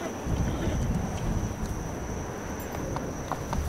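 Hooves of a horse or donkey in a Roblox Wild West game clop in a quick, steady patter over a low rumbling wind-like bed, with a thin constant tone running above.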